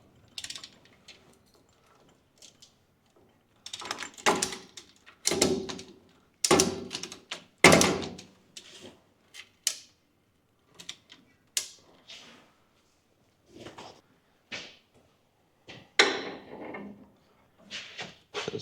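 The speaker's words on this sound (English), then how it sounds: "I'm just going to put a small come along around it and then just pull it into line" A small come-along ratchet pulls a front strut mount into line on a Toyota Hilux N70, giving irregular clicks, clunks and metallic knocks in bursts with quiet gaps, close by and without speech.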